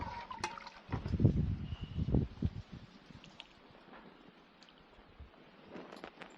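Intestine curry gravy is poured onto idli in a village home, giving a couple of soft, splashy liquid glugs close by, then a quieter stretch with light rustling.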